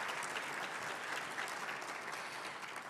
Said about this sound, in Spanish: Un aplauso, un gran aplauso.